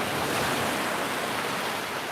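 Broad, steady surf from the Maui ocean at sunrise, a continuous wash of waves rolling in close and fairly loud, with no voices over it.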